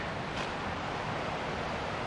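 Waterfalls running almost at full flow on a wet, rainy fell at Seathwaite in England's Lake District, a steady, unbroken broadband roar of rushing water that holds an even level throughout.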